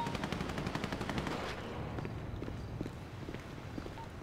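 Automatic gunfire in a police roleplay video game, rapid bursts close by at first, then scattered shots and footsteps fading under a quieter background.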